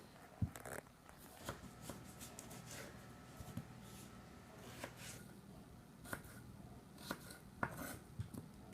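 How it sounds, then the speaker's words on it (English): A knife chops potatoes into 1-inch pieces on a cutting board, giving irregular, fairly faint sharp taps spaced across the stretch with quiet kitchen background in between. "I cut it in half so that I have a nice solid foundation for the potato"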